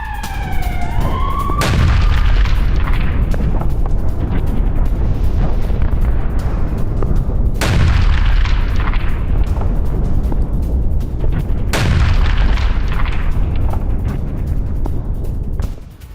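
Explosions from Russian drone bombardment of a Ukrainian sector on the Donetsk front: a rising, wavering tone opens, then three heavy, loud blasts land several seconds apart over a constant dense roar.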